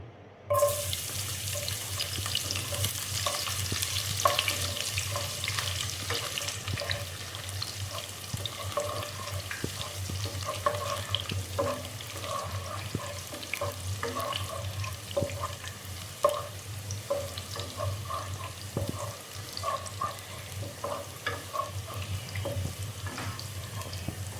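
Garlic frying in a pan, a continuous dense crackling sizzle with light scraping of stirring throughout, fairly loud and close, no speech.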